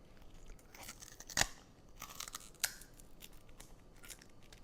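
Sharp crunching bites into hard, crispy pork belly skin, a few loud cracks followed by quieter chewing, close up with no talking.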